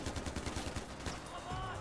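Rapid automatic gunfire from the video game Far Cry 4 rattles in a dense, steady burst that stays loud and close, then eases off near the end.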